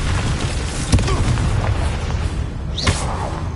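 Booming magical blasts from the Confringo fire spell in the video game Hogwarts Legacy: two heavy explosive bursts, the first loud and the second just under three seconds later, over a continuous rumbling battle din.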